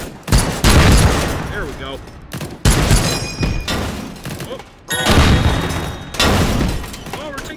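Gunfire in the VR shooter H3VR: four loud, heavy blasts or bursts spaced a couple of seconds apart, each with a long rumbling tail, while someone talks briefly between them.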